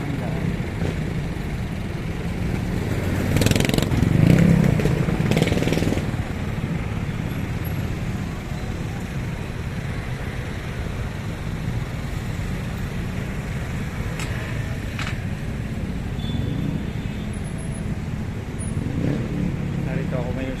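Steady street traffic along Quirino Highway at Handaan, Quezon City, a continuous road rumble with a louder vehicle passing close by early on and lighter passes later.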